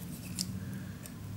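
Scissors snipping incisions into paper for a handmade craft mini album: two quick, quiet, close cuts over soft room noise.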